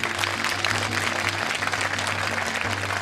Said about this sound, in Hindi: ताली वही बजाना जिनमें हिम्मत हो।